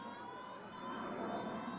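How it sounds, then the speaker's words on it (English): A twin-engine jet passes overhead during an outdoor college softball game, a steady, distant roar with a faint whine that holds evenly and swells slightly toward the end. "Yeah, the jet's engines from here."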